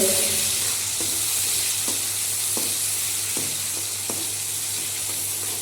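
Chopped tomato cooks with onions in a pan, filling the air with a steady loud sizzle while a spoon taps and scrapes the pan in regular strokes about every second, close and without any talking.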